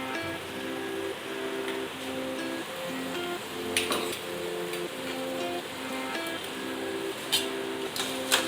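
Crab with ground pepper fries in a pan with a steady close sizzle. Occasional stirring scrapes and clatters break in now and then, and a rhythmic musical tone runs underneath.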